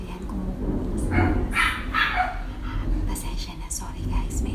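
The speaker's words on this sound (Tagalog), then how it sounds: "maingay yung aso ng kapitbahay namin." A neighbor's dog barking repeatedly in short bursts, a bit distant, over a noisy background with someone talking.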